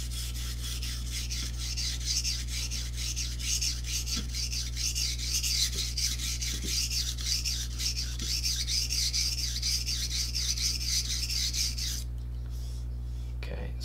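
A paring knife is sharpened by hand on a soaked stone in a steady run of repeated rasping strokes over a constant low hum, stopping abruptly near the end.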